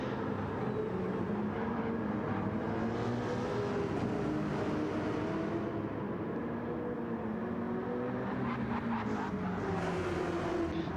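V8 Supercar race cars in a racing game set at Road Atlanta, engines roaring steadily down the back straight with continuous rising and falling revs, loud and sustained throughout with no talk.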